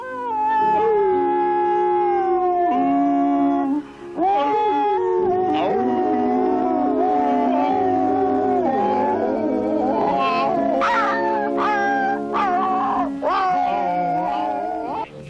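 A voice actor imitates a pack of hound dogs howling, with long wavering, overlapping howls held loud and close for the whole stretch, several voices rising and falling together.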